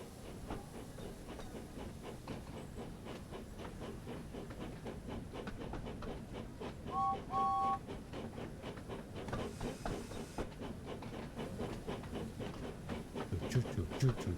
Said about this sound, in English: That steam engine sound of this, like, that chugging sound is so good.